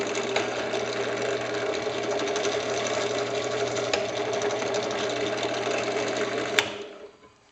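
A Harbor Freight 5 speed drill press drills through a piece of horn with a steady, close mechanical whir and rattle that holds level, then winds down and fades at the end.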